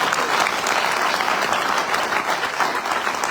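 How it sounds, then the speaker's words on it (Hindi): Sustained applause from a conference audience at a direct selling industry conclave, a thick, even roar of clapping throughout with no talking on top. "सिर्फ इतनी सी तालियां बस।"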